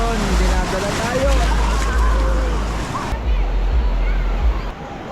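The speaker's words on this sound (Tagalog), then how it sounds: "Alon guys, lalaki ng alon." Big surf at a beach in Real, Quezon, with waves breaking and sloshing in a steady wash while people talk and shout close by over the water noise.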